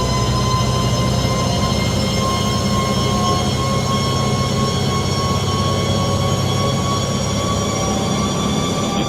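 Scania R580 truck with a 15.6-litre 580 hp V8 held at full throttle near maximum revs, a loud, steady drone with a sustained tonal whine throughout, close and continuous.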